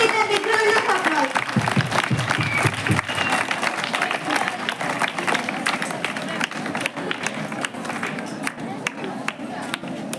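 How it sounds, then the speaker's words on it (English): An audience gives sustained applause to welcome a guest onto the dais at a school self-government event. Dense clapping fills the whole stretch at a steady volume, with a brief murmur of voices near the start. "Please welcome her with a big round of applause."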